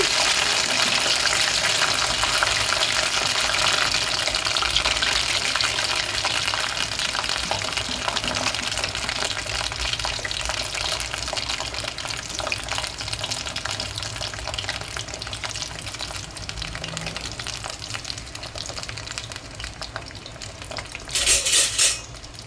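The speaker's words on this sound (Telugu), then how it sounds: "వేసేసుకొని ఫ్రై చేసుకోవాలి." Potato french fries frying in hot oil at home, a constant close crackling sizzle with faint stirring and a brief clatter of a utensil near the end, no voices.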